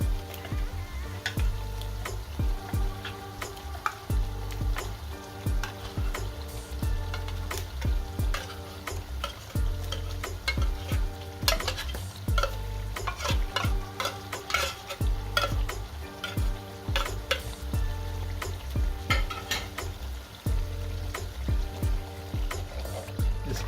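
Tuna cooking in tomato sauce for spaghetti, with a steady close sizzle of frying under repeated stirring scrapes and clinks of a utensil against the pan, continuous throughout with no talk.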